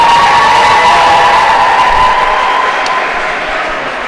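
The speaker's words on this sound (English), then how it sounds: "If you can hear all the shouter, because the audience are really excited for this game." Secondary and middle school students in a packed crowd at a school game shout and cheer together, a loud continuous roar heard up close that eases slightly toward the end.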